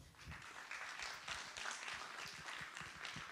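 An audience applauds at a city prize ceremony in Courbevoie, a faint, distant patter of clapping that stays fairly even throughout.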